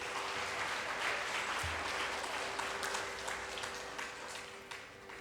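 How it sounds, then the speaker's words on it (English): An audience gives a round of applause for music school students, a faint, distant wash of many hands clapping steadily, heard alone without talk. "Give a big round of applause to the students first."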